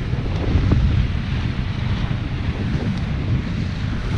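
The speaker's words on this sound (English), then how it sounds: "It's a lot of wind and rain, but for a short while." Strong wind roars and buffets steadily at sea aboard a sailing boat, with a broad rushing noise like open water and surf, and no voices.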